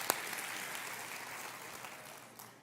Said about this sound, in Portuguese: Aplaude, se é para aplaudir, aplaude direito isso